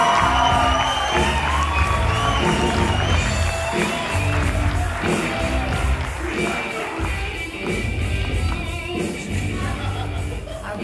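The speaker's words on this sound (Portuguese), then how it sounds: "Uma salva de palmas para a Antônia Fontenelle" Loud, continuous crowd noise greets Antônia Fontenelle on a Brazilian comedy stage, cheering and whoops blended with clapping and music in a dense roar that holds steady from start to finish.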